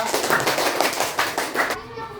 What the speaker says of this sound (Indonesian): Beri tepuk tangan untuk nomor 2